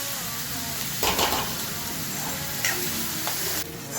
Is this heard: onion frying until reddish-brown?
yes